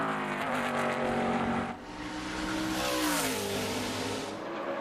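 A stock race car laps a short oval track during UNOH 200 qualifying, its engine roaring loud and near, dipping briefly as it lifts for the turn, then climbing again with rising revs.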